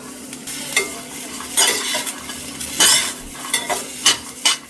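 Mixed sprouted pulses are dry roasted in a pan, with repeated scraping stirs in bursts over a soft sizzle, close up and with no talk.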